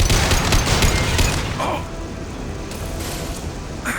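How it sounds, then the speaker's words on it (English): Impact shot gunfire in the Mass Effect 2 video game, a loud burst of rapid close shots in the first moments that fades into a rumbling tail and lingering noise. "Firing an impact shot."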